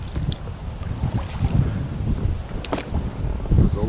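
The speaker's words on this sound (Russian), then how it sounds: "смотри, ветер дует" Wind gusting over open water on a river during a catfish fishing trip, a steady low rumble with buffeting against the microphone and faint water lapping throughout, no talking.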